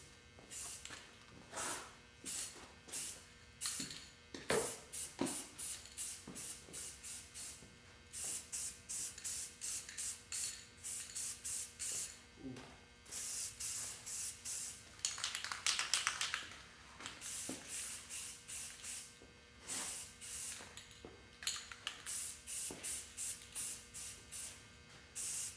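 Light dusting passes of primer spray onto a motorcycle helmet, many quick, close hissing bursts in rapid succession with brief pauses between groups.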